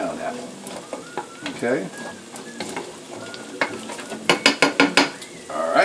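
Food sizzles and bubbles in a pan on a home stovetop, with stirring and scraping sounds and a run of sharp metallic clinks near the end, while a person speaks briefly.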